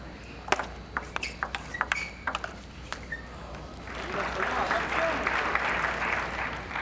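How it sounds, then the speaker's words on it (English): Table tennis crowd at the 2000 US Open, Wang Liqin against Chiang Peng Lung, bursts into sustained applause and cheering after a few sharp ball pings. A commentator's voice carries faintly underneath. "Crowd roared on that prior point."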